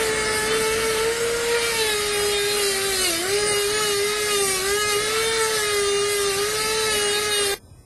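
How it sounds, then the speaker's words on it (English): A fine polishing brush on a bench lathe buffs adjusted acrylic on a repaired denture, giving a steady loud high motor whine with a slight dip midway, running without a break and stopping abruptly at the end. "Now I'm going to use my fine polishing brush to polish the adjusted acrylic."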